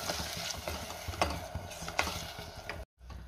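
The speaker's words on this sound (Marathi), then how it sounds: "अंड पूर्णपणे ड्राय होईपर्यंत असं परतून घ्यायचे" Scrambled egg stir-fried in a home pan until dry, with scraping and stirring strokes of a spatula over a steady frying sizzle, several sharp clinks of utensil against the pan, ending in a brief silence.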